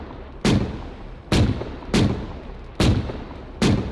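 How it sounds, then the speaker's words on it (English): Military video game gunfire laying down suppressive fire: five loud, sharp shots spaced roughly half to one second apart, each with a booming decay, over a steady low background rumble and no talking. "Suppressive fire up."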